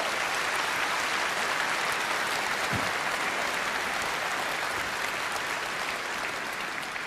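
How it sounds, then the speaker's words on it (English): A large crowd applauding at a political party conference in Britain, dense and loud clapping that holds evenly for seven seconds with no speech over it. "that is worth a round of applause"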